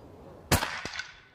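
One sharp, suppressed pop from a Kral Puncher BigMax 6.35mm air rifle fitted with a silencer, followed by a fainter secondary crack and a short decay, heard outdoors at moderate level.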